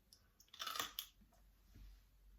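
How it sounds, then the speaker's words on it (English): A single bite into a crunchy homemade vinegar-brined dill pickle gives a sharp, close crunch, followed by a few softer chewing sounds at low volume. "Can you hear that crunch?"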